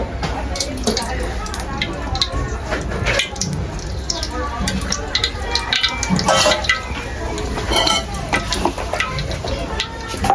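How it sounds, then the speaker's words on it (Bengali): Onion-frying oil poured into a hot pan for chicken kacchi biryani, producing a continuous loud sizzle and spattering with crackles, while a voice talks over it. "দিয়েছি পেঁয়াজ ভাজার তেল"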